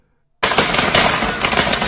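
French firework snaps sprayed down a city street burst in after a moment of silence, then crackle and pop in a dense, loud, continuous barrage.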